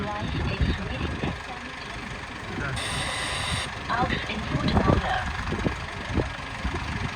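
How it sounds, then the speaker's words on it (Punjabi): A tractor engine idles with a steady low rumble and rattling mechanical clatter at a sugarcane crushing site in Punjab, and faint voices can be heard nearby. "ਟਰੈਕਟਰ ਸਟਾਰਟ ਖੜਾ ਹੈ"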